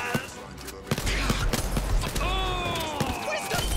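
Gunfire in the video game Blood & Truth, with sharp shots and short bursts cracking over a busy, noisy action scene; a voice is also present.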